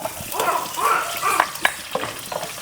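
Nuts rattle and scrape in a hot pan as they're stirred, with a soft sizzle and uneven clicks of pieces shifting against the metal.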